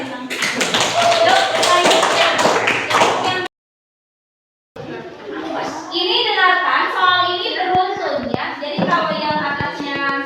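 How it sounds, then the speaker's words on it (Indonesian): A classroom of children in Grade 7B breaks into applause, a burst of many hands clapping for a few seconds, then a brief silence followed by more scattered clapping mixed with chatter and children's voices. "tepuk tangan"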